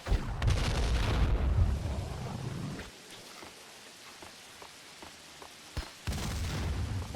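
Loud explosive blasts with a rumbling roar from grenades going off in the video game Max Payne 2, a heavy burst at the start, a quieter crackling stretch, then another sharp blast near the end.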